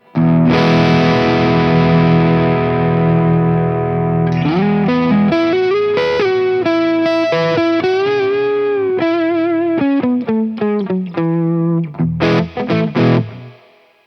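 Distorted Eastman Fullertone electric guitar rings out with a long sustained chord, then a run of picked notes and bends, loud and thick with effects throughout.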